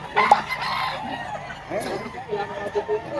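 Chickens and roosters for sale at a busy market in Lipa, Batangas, clucking and crowing at moderate distance amid scattered shouts and voices of people talking.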